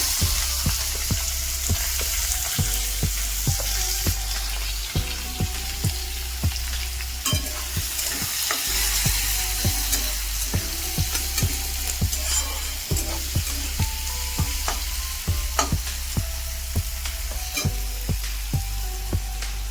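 Onion fries in a pan for suji upma, a steady close sizzle punctuated by frequent rhythmic spatula scrapes and taps against the pan.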